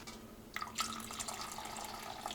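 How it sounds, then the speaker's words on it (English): Hickory tea poured and dripping through a coffee strainer, a faint quiet trickle with soft irregular splashes starting after a brief hush, over a low background hum. "So I'm going to use the coffee strainer."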